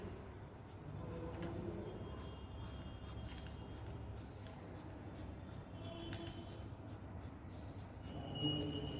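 A pen scratches on paper while drawing bars for a bar graph in a maths exercise, quiet steady strokes with small tapping lifts, close and soft against low room hum.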